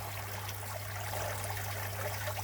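Water from a small waterfall at Westcliff pours and trickles in a steady, dense rush with a low constant hum beneath it, fairly loud and unbroken throughout.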